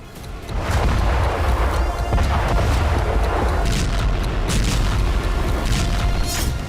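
Several heavy booms from a drone attack in Belgorod, Russia, captured in news footage, rumble loud and continuous with dense low-end blasts and crackling debris, no voices over them.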